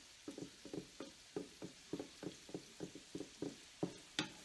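Zucchini noodles sauté quietly in a pan, heard as a regular series of soft tossing or stirring knocks, about a dozen evenly spaced, over a faint sizzle with no talk.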